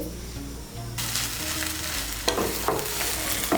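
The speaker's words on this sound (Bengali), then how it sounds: "আঁচটাকে মিডিয়াম করে কচুটাকে আমি ভালো করে ভেজে নিয়েছি" Shola kochu (taro) frying on medium heat, a steady close sizzle that swells suddenly and carries on, with a few scraping stirs of the spoon breaking through near the end.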